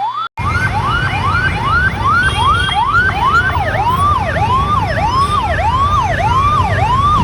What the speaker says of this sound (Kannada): ಪ್ರಾಣವನ್ನು ಉಳಿಸುವ ಆಂಬುಲೆನ್ಸ್ ಹೇಗೆ ಹೋಗ್ಬೇಕು ಹೇಗೆ ಬರಬೇಕಾಗುತ್ತೆ ನೋಡಿ